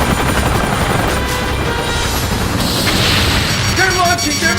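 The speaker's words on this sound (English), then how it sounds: "Red 4, unidentified incoming chopper." A helicopter approaches and fires missiles in a cutscene from the PlayStation game Chase the Express: steady rotor thrum under loud booming blasts, with voices partly over the noise.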